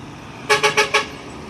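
An ALS executive bus sounds its horn in four quick, loud, evenly spaced toots close by, over a low background of road traffic.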